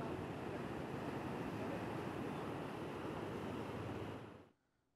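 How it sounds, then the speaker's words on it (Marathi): The Sahastrakund waterfall in Nanded district, swollen by heavy monsoon rain, gives off a steady, dense roaring rush. The sound is even and unbroken for over four seconds, then cuts away. "नांदेड जिल्ह्यात सध्या मुसळधार पाऊस सुरू आहे आणि त्यामुळे सहस्त्रकुंड धबधब्याला अकराळ विक्राळ रूप प्राप्त झाले आहे"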